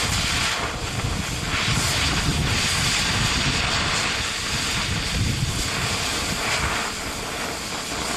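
An oxyacetylene torch cuts through a rusted bolt head, a loud, steady roaring hiss that holds constant and close throughout with no pauses.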